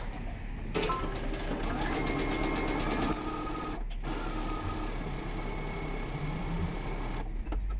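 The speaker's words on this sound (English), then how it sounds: "now we're going to sew the remaining part of our pocket" A sewing machine stitches the pocket on a pair of pants in a close, steady whir, with a few brief pauses in between.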